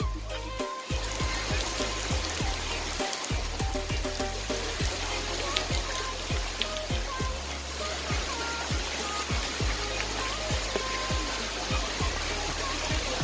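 Steady heavy rain falls at the first tier of Krathing Waterfall, a dense continuous wash of water with scattered sharp drip and splash ticks, close and loud throughout, no talk.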